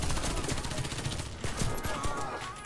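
Rapid bursts of automatic gunfire in the online shooter Warface, dense overlapping shots rattling continuously at moderate volume, with a voice talking faintly underneath.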